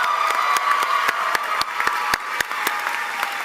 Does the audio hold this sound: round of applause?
yes